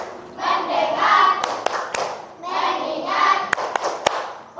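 A classroom of students clapping in rhythm during an Islamic religious education lesson, two bursts of quick sharp claps each following a stretch of voices chanting together, close and loud.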